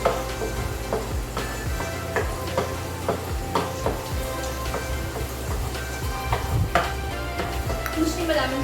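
Garlic frying in a pan for tuna pesto pasta, a steady close sizzle with frequent utensil clinks and stirring scrapes against the pan, continuous throughout with no pauses.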